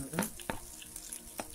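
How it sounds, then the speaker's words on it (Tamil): Onion and green chilli fry in a pan with a quiet, brief sizzle and a few soft stirring clicks. "கருவேப்பிலை கொத்தமல்லி எல்லாத்தையும் போட்டு நல்லா ஃப்ரை பண்ணுங்க."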